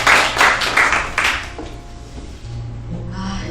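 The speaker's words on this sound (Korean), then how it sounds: "박수 부탁드리겠습니다." A small audience at a café claps before a poetry reading, with a short burst of distinct close claps that fades within about a second and a half into a low room hum.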